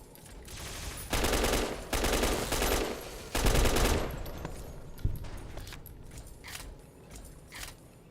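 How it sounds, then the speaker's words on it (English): Several loud bursts of rapid automatic gunfire from a weapon in Fallout Tales of Two Wastelands, followed by scattered single shots and mechanical clatter as the firing tapers off. "Opening fire."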